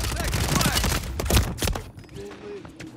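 Gunfire in a video game comes as a rapid burst of sharp shots early on, then a few scattered bangs, with players talking over the action.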